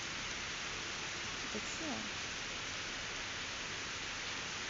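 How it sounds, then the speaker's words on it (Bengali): Heavy rain pours outside, a steady, even hiss of falling water that fills the whole stretch, with a brief spoken question partway through. "অনেক জোরে বৃষ্টি হচ্ছে বাইরে"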